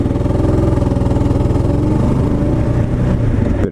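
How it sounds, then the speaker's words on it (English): A Kawasaki KLR motorcycle engine runs loud and close with a steady, throbbing idle rumble that continues evenly before cutting off abruptly at the very end. "and I stalled the bike, there you go."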